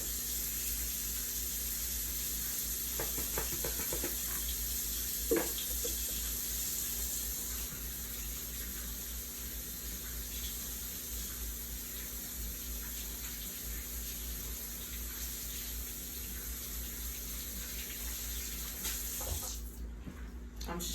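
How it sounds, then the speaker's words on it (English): Tap water runs steadily into a sink as someone washes their hands in a kitchen, a continuous soft hiss with a few small splashes and clunks, then a brief shift near the end. "So I'm gonna wash my hands"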